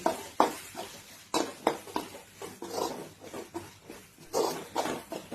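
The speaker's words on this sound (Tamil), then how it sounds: "தக்காளி சேர்த்து நல்லா வதக்கி விட்டுக்கலாம்." Tomatoes being sautéed for mushroom gravy, with repeated stirring strokes of a spatula in the pan at an uneven rhythm over a low sizzle, close by.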